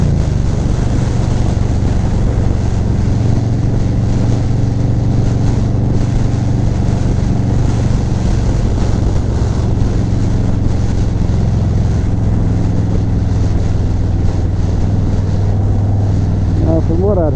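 A 2019 Harley-Davidson Softail Slim motorcycle on the road, its engine a steady loud low rumble under heavy wind rush throughout, with no break in the sound.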